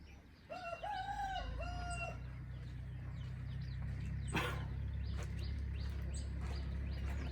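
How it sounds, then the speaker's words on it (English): A rooster crows near the start over a chorus of clucking hens on a chicken farm, followed by scattered squawks and calls above a constant low hum of the flock. "I'm doing this video from my chicken farm. There is a bit of noise here and there."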